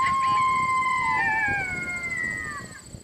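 An electronic coyote caller set about 50 yards out plays a pup serenade: several high, wavering howls and yips overlapping and sliding downward, fairly loud and clear with no talking.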